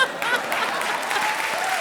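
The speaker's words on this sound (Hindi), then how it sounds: "जोरदार तालियां हो जाए।" A short burst of lively applause from a comedy show audience, many hands clapping at once, fairly close and steady for about two seconds.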